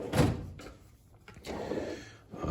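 A drawer on a Matco 6s toolbox slides open with a metallic rolling rumble and clunks, fairly close, in a quiet garage.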